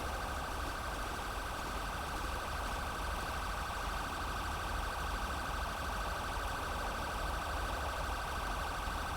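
An older non-ELS ambulance siren in GTA 5's LSPDFR mod blares as one continuous, steady tone layered over a dense noisy roar, unbroken for the whole stretch and without speech.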